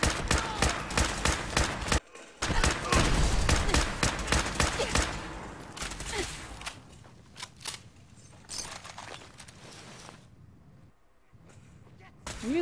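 Rapid bursts of automatic gunfire crackle in a shooter video game, first dense and continuous, then thinning into scattered single shots and short volleys, with a voice talking at times.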